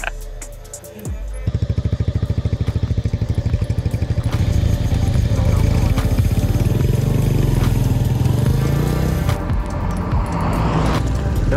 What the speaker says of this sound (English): We're gonna film how Sergei drives his cool bike.